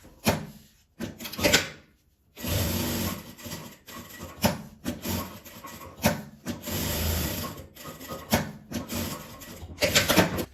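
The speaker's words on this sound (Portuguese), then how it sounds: "E vou costurar meu velcro." Sewing machine stitching a strip of velcro onto a fabric pad pouch, running in several bursts of a few seconds with brief pauses and one longer stop, close and fairly loud, no talk.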